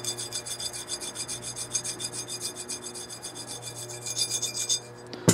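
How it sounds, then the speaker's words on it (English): Steady rasping rub of rust being worked off a vintage .22 rifle with kerosene, a close, rhythmic back-and-forth scrubbing that repeats quickly and evenly with no voices. "Take a little bit of kerosene and rub it. You can hear it. You can hear that rust."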